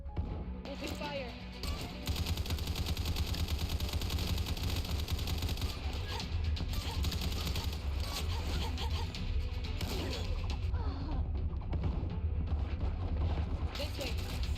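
Rapid automatic gunfire in a video game rattles almost continuously as a loud, dense stream of shots with crashes mixed in, and voices speak over the barrage.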